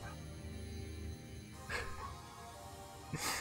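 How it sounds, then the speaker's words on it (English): Several dogs bark and yip in short bursts inside a home, loud and close, with a steady low background hum underneath and no talking. "The dogs are going crazy."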